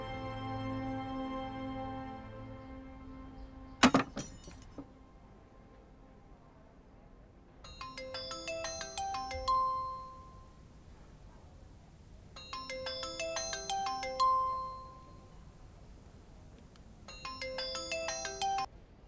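An incoming call sets off a phone ringtone, a bright melodic pattern repeated three times with short pauses between, clear and alone after a brief thump.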